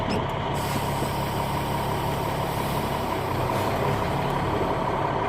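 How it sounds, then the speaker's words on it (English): A Class B truck brakes to a stop during a pre-trip inspection test, with a loud, continuous engine roar and broadband hiss close by, steady throughout and free of talk. "I immediately put it in neutral, pull my brake, it stopped the truck"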